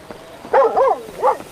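A dog in the video game GTA V gives a few close, loud whining barks and whimpers in quick succession, with no one talking over them.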